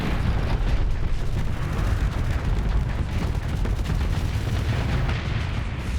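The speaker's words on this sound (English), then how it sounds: "That's a really big missile." A huge missile detonates in the space game Starsector, a dense, rumbling explosion that stays loud and continuous throughout with no pauses.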